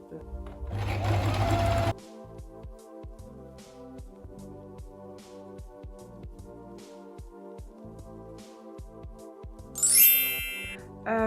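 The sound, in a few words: sewing machine stitching a skirt to take it in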